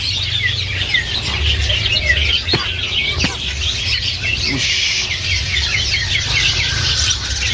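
Hundreds of caged kacer magpie-robins and cucak ijo birds at a bird market chirp and whistle in a dense, overlapping chorus. A few louder calls stand out, wings flap now and then, and one short spoken word breaks in.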